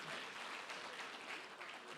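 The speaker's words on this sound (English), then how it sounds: "Let's give all the competitors a huge round of applause." An audience at an international auctioneer championship applauds the competitors with a steady, dense round of clapping that lasts the whole stretch and holds at an even, full level.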